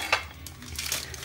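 Knife slicing banana pieces on a plate while making an eggless apple cake, giving a few short close scrapes and taps of the blade against the plate.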